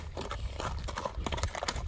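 Hooves of a horse being walked at a horse sale clip-clop as a steady run of close, sharp knocks over a busy outdoor background.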